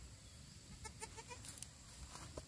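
A goat giving birth on a farm gives a short, faint, wavering bleat of a few quick pulses over a quiet, noisy background, with no talk over it.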